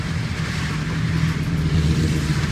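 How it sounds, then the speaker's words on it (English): Steady highway traffic heard from inside a moving car heading south out of Atlanta, a continuous low engine and road roar with no breaks and no talking. "What is all of this traffic?"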